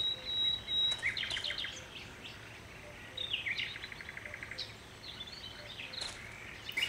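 Birds chirp in the hunting video game Cabela's Big Game Hunter 2012, short high tweets and trills scattered across a quiet outdoor ambience, fairly faint, with no talking.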